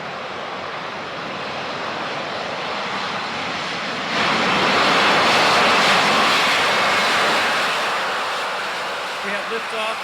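An airplane engine roars as the aircraft takes off in a radio-drama sound effect, with the broad rushing noise swelling midway and then easing off slightly. The sound is steady, close and fills the whole stretch.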